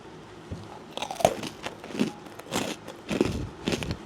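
Crunchy chocolate, strawberry and brown rice puffed crumble snacks from a bakery bite and crackle in a series of close, loud crunches, with chewing filling the gaps and no talking.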